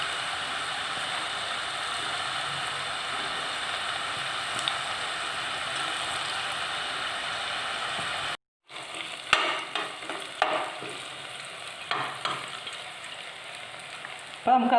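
Masala peanuts frying in oil over a low flame give a steady, even sizzle. The sound breaks off briefly, then returns with scattered scraping and stirring clicks.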